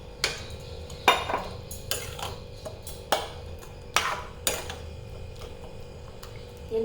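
Eggs are stirred in a cooking pan, with sharp metallic clinks and scrapes at irregular intervals, close and fairly quiet, with no talking.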